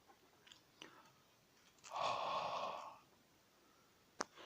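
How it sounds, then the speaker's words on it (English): A single long exhaled breath onto a laser printer's mirror to fog it, a soft, close, airy huff lasting about a second, set between faint small clicks and rustles in a quiet room. "fog the mirror up with your breath"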